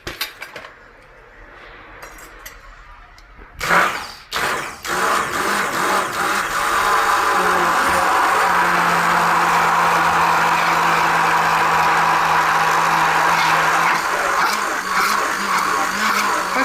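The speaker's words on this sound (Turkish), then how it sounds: "Blender" A kitchen blender whirs as it mixes milk and sunflower oil for homemade chocolate spread; a loud, steady motor drone starts abruptly after a few quiet seconds and holds without letup.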